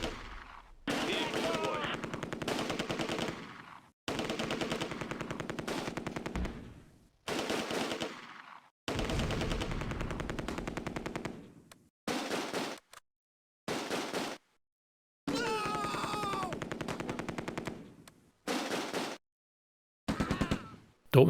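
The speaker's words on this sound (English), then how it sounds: "Dortmund's 30 caliber also opens up and scores an immediate hit." A .30 caliber machine gun fires in the World War II video game Close Combat: A Bridge Too Far, long sharp rattling bursts of rapid shots separated by brief pauses, loud and close throughout.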